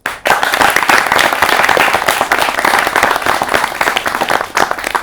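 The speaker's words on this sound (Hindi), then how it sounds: "ताली होनी चाहिए यहां पर स्टूडेंट्स के रूप में मौजूद जनता जनार्दन के लिए भी" Loud, close applause from an audience of students at a televised voting-awareness event, starting abruptly and rolling on as a dense, uneven clatter of clapping hands.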